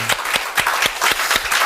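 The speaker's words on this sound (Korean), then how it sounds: "영광의 박수 올려드리겠습니다" A church congregation applauding during a worship service, brisk irregular clapping in quick sharp bursts that fill the short moment.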